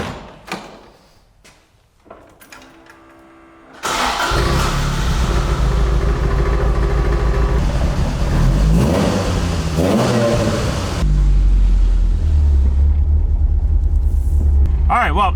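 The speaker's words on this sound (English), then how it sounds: "I want to really try to rev this thing out, bring it up close to Redline" A Toyota AE86 with a freshly rebuilt engine fires up after a few faint clicks, then idles loudly and is revved hard toward redline in repeated sweeping pulls, close to the microphone.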